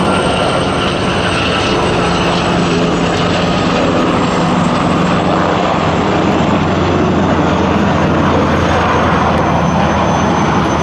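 A loud, continuous roar of Puma and NH90 military helicopter engines and rotors drones overhead at an air show, steady throughout with no pauses or voices.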